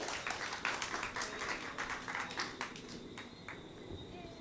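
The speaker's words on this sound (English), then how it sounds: "Let's give them another round of applause, please." An audience claps in applause at a talk, a brisk spread of hand claps that thins out toward the end.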